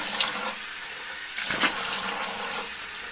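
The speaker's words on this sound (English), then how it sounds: "You turn on the faucet, splash cold water on your face." A bathroom faucet runs in a steady hiss, then a burst of splashing at the midpoint as cold water is thrown on a face, loud and close in a dramatized audio play.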